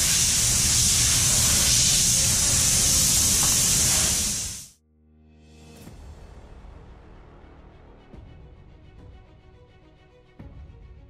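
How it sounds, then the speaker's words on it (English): A spray gun hisses loudly and steadily while spraying a boat mould at a Zodiac RIB manufacturing plant, then cuts off abruptly, leaving quieter factory background with faint clatter. "then I'm gonna begin to spray it"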